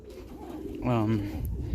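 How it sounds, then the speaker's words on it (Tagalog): Breeding hen pigeons cooing in a backyard DIY cage, a brief throaty coo rising mid-clip amid soft background sounds. "Ayan po mga kalapatids, ayan po yung aking mga hen, breeders hen."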